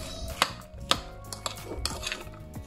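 A spoon stirs Manado-style corn fritter batter of shucked corn, a little flour, no egg and a few small kaffir lime leaves in a bowl, making irregular clinks, taps and scrapes that sound close.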